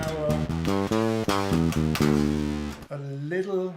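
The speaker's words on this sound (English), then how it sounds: "a little bit of fuzz underneath the bass sound" Bass line with a little fuzz pedal effect blended underneath, demonstrated on Rabbit Hole FX pedals at an effects show, playing steady repeated notes loudly and alone before a brief change in tone near the end.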